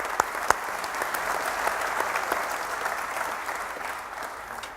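Audience at a panel discussion on labour reform clapping steadily, a dense sustained round of applause from a crowd that holds throughout and tapers slightly at the end.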